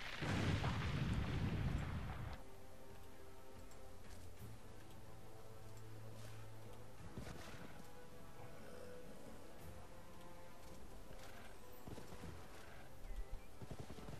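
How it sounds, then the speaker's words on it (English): A wall being bombed during a siege in a video game: a loud, dense blast of rumble opens, then fades into steady battle ambience with occasional hoofbeat-like clatter and distant booms. "Go ahead and start bombing his wall."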